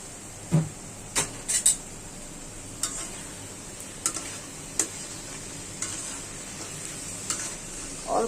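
Amaranth stalks and jackfruit seeds fry in cooked spice paste, with soft sizzling, stirring scrapes and a few light clinks of a utensil against the pan at close range, with no voices.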